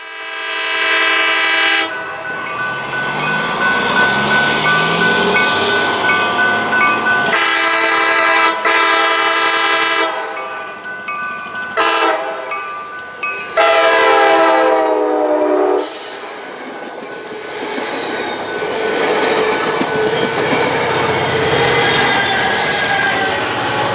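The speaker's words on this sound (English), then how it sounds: "an inbound Sounder train with the same set that we saw earlier, that being cab card 303 and MP40PH-3C 921" Sounder commuter train in the Puget Sound area, MP40PH-3C locomotive 921 with cab car 303, passing close by with loud sustained horn blasts over rumbling wheels and rail noise.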